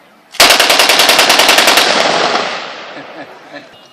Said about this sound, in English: Belt-fed machine gun, usually crewed with a crew of 3 soldiers